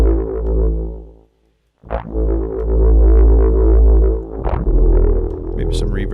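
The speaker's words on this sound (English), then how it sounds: "I'm going to add some distortion." A Harmor synth stutter bass with distortion plays loud, rhythmic bass chopped into pulses, with a brief cut to silence and bright distorted bursts.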